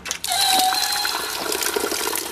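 Water from a town fountain in Spain splashes and pours steadily, a close, continuous gushing wash with no speech.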